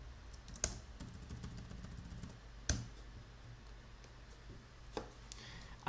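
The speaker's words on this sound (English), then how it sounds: "Now let me just type something." Computer keyboard keys tap in a loose, uneven rhythm, quiet and close, with a few sharper clicks standing out and no speech.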